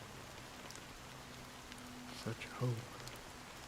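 Soft, steady rain hisses in the video game Honkai: Star Rail, a quiet even patter under a voice briefly speaking near the end.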